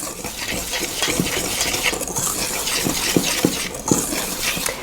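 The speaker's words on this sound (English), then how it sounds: "So I'm just mixing that all up." A dry seitan mixture with smoked paprika is stirred in a bowl, giving continuous scraping and rustling with irregular clinks of the utensil against the side, close and fairly loud.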